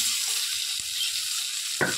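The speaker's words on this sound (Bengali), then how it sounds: "জিরেটা ভাজা ভাজা হয়ে গেলে দিয়ে দেবো পেঁয়াজ কুচি" Chopped onion fries in oil with cumin seeds, giving a steady close hiss of sizzling broken by a couple of brief sharp crackles.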